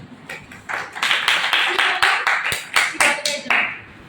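Students clapping together in a classroom, a quick run of sharp claps in an uneven rhythm that gathers and then thins, with a teacher's voice speaking over it.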